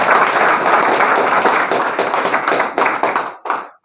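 A meeting audience claps loudly and together in a close, dense burst that thins into scattered claps and breaks off near the end.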